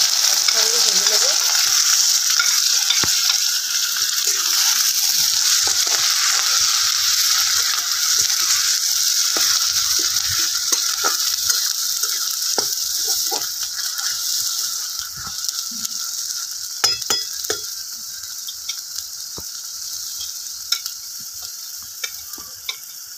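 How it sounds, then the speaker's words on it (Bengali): Ground dried lote fish frying in a pan with onion, garlic and chilli gives a steady, bright sizzle, broken by frequent scraping and clinking as the mixture is stirred, with no talking. "একসঙ্গে ভেজে নেব।"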